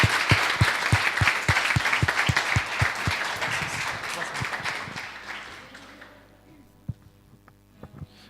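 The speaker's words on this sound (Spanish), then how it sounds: "que le den un fuerte aplauso a Jesús por su palabra" Church congregation applauding: a dense burst of many hands clapping, loud and steady for several seconds, then fading out to a few scattered claps and low hum.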